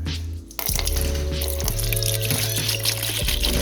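Water poured into the reservoir of a VREMI countertop ice maker, a steady close pour with splashing and trickling that runs continuously after a short quiet start.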